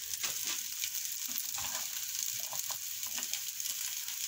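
Vegetable fried rice with peas being stirred in a pan over medium heat: a constant hiss of frying with scattered scraping and clinking of the utensil, close and moderately loud, no voices.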